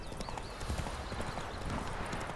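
A horse gallops at speed in The Witcher 3: Wild Hunt, its hooves beating a fast, steady clip-clop close up, with no talk over the running.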